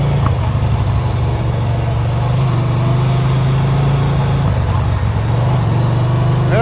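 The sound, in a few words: small mini bike engine while riding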